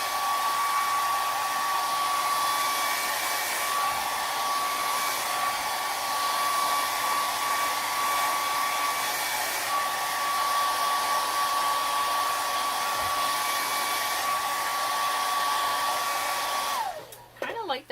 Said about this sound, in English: I'm going to just take a quick hit with the hair dryer here